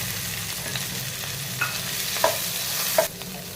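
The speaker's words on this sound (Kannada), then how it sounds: "ಈಗ ಅದೇ ಬಾಣಲಿ ಇಟ್ಟು ಎಣ್ಣೆ ಹಾಕ್ತಾಯಿದ್ದೀನಿ ಒಗ್ಗರಣೆಗೆ." Mustard seeds, cumin, chana dal, green chilli and onion sizzle in hot oil in a kadai for tempering, a steady close frying hiss with a few light stirring clicks and scrapes.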